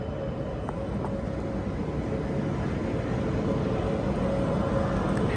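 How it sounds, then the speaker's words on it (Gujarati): A train pulling into a station, heard as a steady, loud, continuous low rumble and rolling noise that holds evenly throughout with no voices. "જો આવી ગઈ આપણી ટ્રેન"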